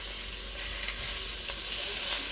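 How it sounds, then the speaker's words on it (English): Beef sautéing in hot olive oil in a wok gives a steady, close sizzle and hiss throughout, with faint stirring and no voices. "you want to get your beef nice and sauteed up"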